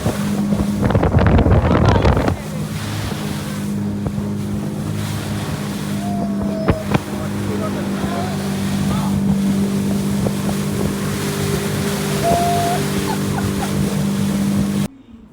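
A motorboat speeds across the water on a leisure ride, its engine droning steadily under heavy wind buffeting the microphone and the splash of water, loudest and roughest in the first couple of seconds.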